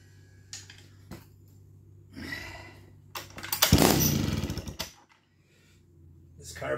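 An old chainsaw with a finicky carburetor sputters and revs, the engine surging into a loud burst before dying away, with irregular bursts and gaps and someone talking around it.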